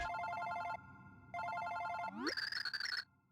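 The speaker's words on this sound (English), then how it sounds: "Oh wait, that is my phone." A telephone rings in the Super Paper Mario video game: two bursts of an electronic bell-like ring separated by a pause, then a rising chirp and a higher warbling tone before it cuts off, with no talking.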